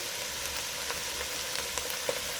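A pot of taco soup with corn and canned ROTEL tomatoes simmering and being stirred, a soft steady sizzling hiss with a few faint spoon taps and scrapes, close and quiet.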